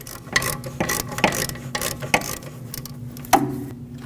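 Brake caliper bolt being unthreaded on a 2006-2015 Lexus IS250, a string of light metallic clicks and scraping taps over a steady low hum, with a sharper clink near the end.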